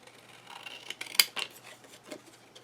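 Scissors snip through scrapbook paper for a Mintay Life Stories 3D large album, one sharp close cut standing out among softer rustling and handling sounds.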